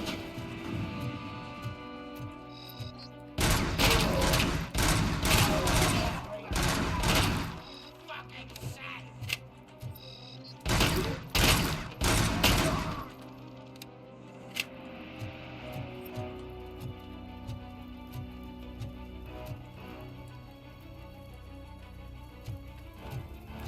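Gunfire in a RoboCop video game, firing in short triple-shot bursts: two loud clusters of sharp rapid shots separated by a pause, over a steady low game background.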